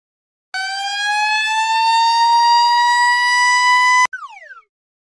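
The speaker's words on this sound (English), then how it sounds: "Fire truck." Fire truck siren sound effect from a children's vocabulary game: a loud, steady electronic wail held for about three and a half seconds, then a short falling tail, with no talk.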